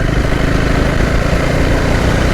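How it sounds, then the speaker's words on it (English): A Bajaj Dominar 400 motorcycle engine runs steadily with a dense, continuous low rumble, loud and close, with no talk over it. "The engine really supports, high speed riding"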